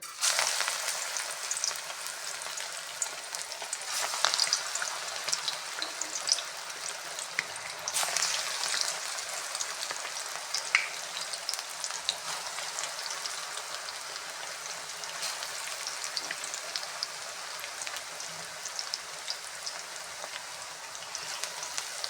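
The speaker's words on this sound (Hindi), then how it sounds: "अब मैंने घी रखा है गर्म होने के लिए, तकरीबन गर्म हो गया अच्छी तरह से। अब इसके अंदर मैं हाथ के साथ ये डालूँगी पकौड़े।" Egg pakoras fry in hot ghee with a loud, continuous crackling sizzle, close and steady throughout, with faint bubbling pops and no talking.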